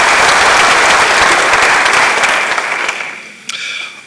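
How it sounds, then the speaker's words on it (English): Loud hall applause at a university ceremony honoring a law figure, a thick wash of clapping that tapers off after a few seconds, followed by a brief final flurry. "shall we do a big round of applause for him?"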